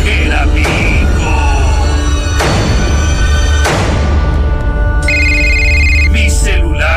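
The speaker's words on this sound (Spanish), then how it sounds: "Mi celular sonaba y sonaba hasta que lo contesté." A mobile phone rings loudly and close by, a series of bright electronic ring bursts that repeat and then change to a steadier tone toward the end, with no talk over it.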